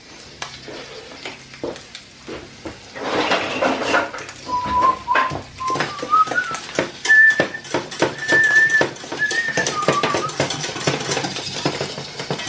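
A whisk scrapes and taps steadily against a pan over a frying sizzle while loaded fries are cooked, with a high whistling tone rising and falling partway through.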